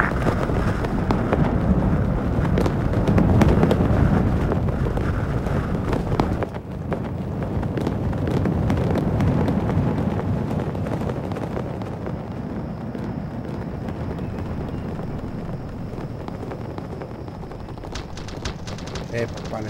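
Dense automatic and single gunfire from an Arma 3 insurgency battle, steady and loud throughout, with radio-style voices and players talking over it.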